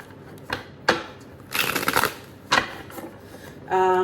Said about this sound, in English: Let me just shuffle some cards here.